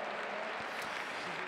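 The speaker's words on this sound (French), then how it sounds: "ça mériterait un petit peu plus d'applaudissements" Steady applause from the crowd at the Saut Hermès 2019 show jumping event, a dense continuous patter of many hands clapping throughout, moderately distant, with no voices standing out.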